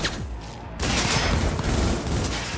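Rapid bursts of automatic gunfire in Cyberpunk 2077 erupt after a brief quieter moment, loud and sustained fusillade filling the rest of the clip.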